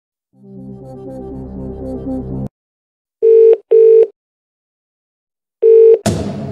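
Phone-a-friend call in a Who Wants to Be a Millionaire DVD game: a low droning musical sting cuts off, then three loud, steady ringback tones sound with pauses between, and a sharp bright hit closes it.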